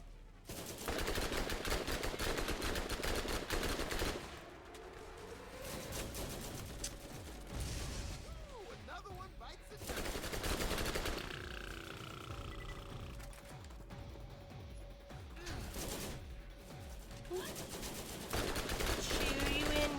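Rapid gunfire in the video game Borderlands, bursts of automatic shots crackling in clusters with short pauses, loud and near, over game sounds.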